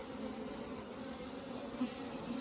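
Honeybees buzzing in an open hive with a newly added super, a steady low drone close by, alone and moderately faint.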